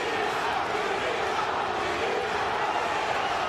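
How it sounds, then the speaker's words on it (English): A crowd roars and chants throughout at a Bellator MMA event in San Diego, backing Brazilian-born fighter Lima; a dense, steady wall of voices with no pauses, fairly distant and even in level. "Lima, the adopted favorite here in San Diego, chanting in the crowd"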